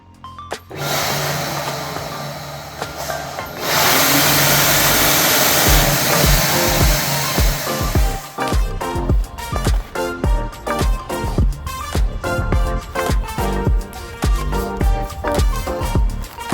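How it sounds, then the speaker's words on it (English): An electric hand dryer blows in a loud, steady rush for several seconds and then cuts off, followed by a string of sharp, rhythmic knocks and clatters. "That's a hand dryer."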